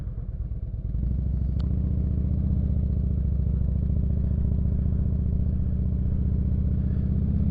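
A motorcycle on the road in Kansas gives a steady, close engine drone with a pulsing, rumbling tone that starts after a brief lead-in and carries on evenly without talk.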